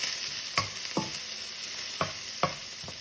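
Onion and garlic sautéing in a pan sizzle steadily and close, broken by about five sharp spatula scrapes and taps against the pan, with no talking.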